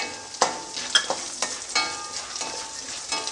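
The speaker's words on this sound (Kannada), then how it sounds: "ಎರಡನ್ನು ಚೆನ್ನಾಗಿ ಸ್ವಲ್ಪ ಫ್ರೈ ಮಾಡ್ಕೊಳ್ತೀನಿ ಇದು ಶೇಂಗಾ ಬೀಜ ಮತ್ತು ಕಡಲೆಬೇಳೆ" Peanuts and chana dal fry in hot oil with mustard seeds in a pan, a steady close sizzle broken by several sharp stirring scrapes and pops, with no voices.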